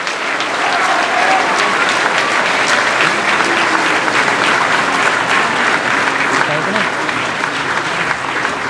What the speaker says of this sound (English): May we have another round of applause for the signing of the 2012 Framework Agreement.